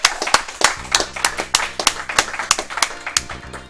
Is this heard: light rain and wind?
no